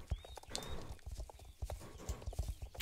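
Horse hooves clip-clop in a quick, even rhythm in the video game Star Stable Online, with a Paso Fino horse trotting close by and a brief chime-like sound near the start.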